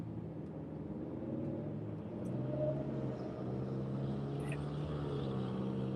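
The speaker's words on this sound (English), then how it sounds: "That Audi A4 with that aftermarket exhaust is what's making that obnoxious sound." An Audi A4 with an aftermarket exhaust drones along a Long Island street, a steady low engine rumble heard from inside a moving car amid road noise.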